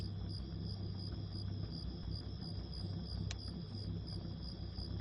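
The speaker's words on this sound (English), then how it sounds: "And Jeff is hearing crickets" Steady high-pitched cricket chirping in a video game, faint and continuous over a low background rumble, with no one talking.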